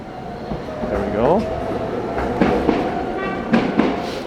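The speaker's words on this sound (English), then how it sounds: "I think the crossing is the little train line" A Toden streetcar rumbles past nearby in Sugamo, Tokyo, with rail clatter and a crossing bell ringing, traffic noise around it.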